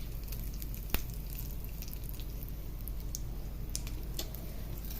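Spices and garlic sizzle in hot oil as a tempering for tomato rasam, giving a steady close crackle with a few sharp pops and no voices.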